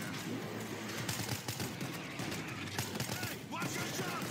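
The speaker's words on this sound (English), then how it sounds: "stop getting in the way of my line of fire, and then I wouldn't shoot you" Dense rapid gunfire in the zombie shooter World War Z, sustained bursts of shots crackling close and loud with scattered impacts, game noise layered underneath.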